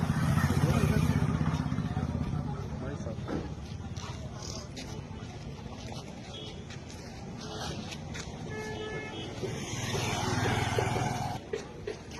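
Motorbikes and road traffic rumble past on a rough Uttar Pradesh street, a steady close engine drone with brief horn toots, swelling louder near the end, while people talk throughout.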